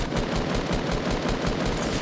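Rapid automatic gunfire from a Fortnite battle royale match, a steady stream of evenly spaced shots running continuously at a loud, dense level with no talking over it.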